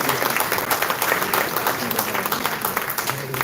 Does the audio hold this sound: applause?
yes